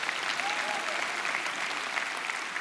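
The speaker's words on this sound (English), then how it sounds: "you can golf clap for that" A crowd at a talk on the Bible and sexism claps steadily, a close, even wash of applause that holds at the same level through the whole short stretch with no voices over it.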